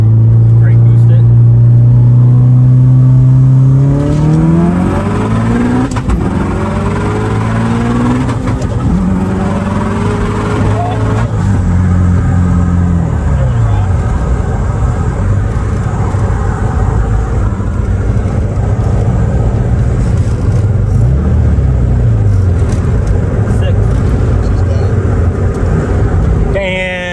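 A Subaru EJ25-engined car making about 800 wheel horsepower loads up against the brakes and revs hard, its loud engine note rising and falling through repeated pulls, with people talking and exclaiming over it.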